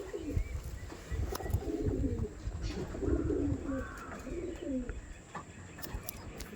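Racing pigeons in a loft coo repeatedly in soft, rolling phrases close by, several calls overlapping over a low background murmur.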